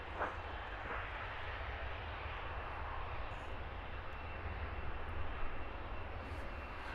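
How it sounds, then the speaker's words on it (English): An EasyJet Airbus A320 jet airliner at Luton Airport, heading out on a flight to Glasgow, gives a steady, distant engine roar that holds level throughout with no speech. "It's an A320."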